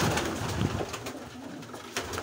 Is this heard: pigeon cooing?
yes